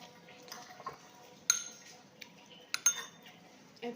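Plates and cutlery clink in a home meal setting, with sparse light taps and a few sharper ringing clinks at irregular intervals over quiet background chatter.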